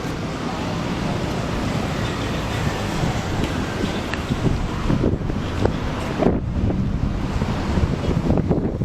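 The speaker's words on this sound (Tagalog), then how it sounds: "Hangin." Steady outdoor wind rushes and buffets the microphone throughout, with a broad surf-like roar underneath and a few brief gusty dips and bumps.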